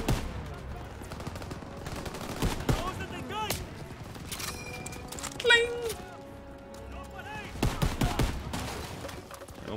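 K98 rifle shots in Call of Duty WWII gameplay crack out in scattered bursts among other game gunfire and battlefield noise, with someone talking over the action.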